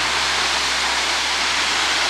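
A waterfall on Kauai roars in a steady, dense broadband wash, loud and continuous with no pauses.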